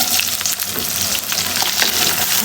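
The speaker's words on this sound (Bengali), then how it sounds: "এখন দিয়ে দেবো তেল, দিয়ে দেবো দারচিনি, এলাচ, লবঙ্গ। এখন দিয়ে দেবো পেঁয়াজ কুচি।" Chopped onions frying in hot oil with cinnamon, cardamom and cloves in a heated pan for a beef curry, a loud, dense, continuous sizzle with stirring scrapes, close and without talk.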